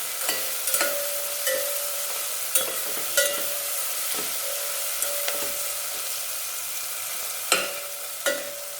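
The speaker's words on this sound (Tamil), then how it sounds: "நல்லா வதங்கி வரணும்" Ingredients sautéing in a generous amount of oil for Kongu-style rice and dal, an even close sizzle broken by repeated sharp scrapes and taps of a spoon stirring against the pan.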